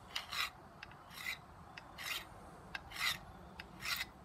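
A metal file rasps across the spine of a knife, stripping its black coating in five or six rhythmic strokes, each a close, dry scrape with short gaps between them.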